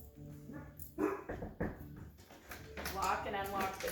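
A pet dog indoors barks in short, sharp bursts at a delivery driver, mixed with a person speaking close by.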